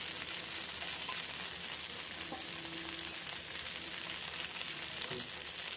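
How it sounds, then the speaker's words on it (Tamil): Ragi rava dosa batter cooks in oil on a pan over a medium flame, giving a steady, even sizzle and hiss that runs unbroken for the whole stretch with no voices. "இந்த டயத்தில் எண்ணெய் ஊற்றுவோம். மீடியம் ஃப்ளேம்லேயே வச்சு வேக விடலாம்."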